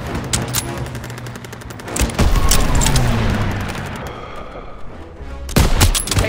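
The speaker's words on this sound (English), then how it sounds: "Popping a grenade!" Grenade blast and machine-gun fire in Call of Duty WWII: rapid, steady bursts of shots, then a heavy rumbling explosion swells and fades before close gunfire starts up again.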